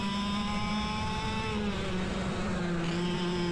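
Sodi racing karts fitted with KA100 100cc engines, a steady loud engine drone with sustained harmonic whine that shifts pitch slightly mid-clip, no talk.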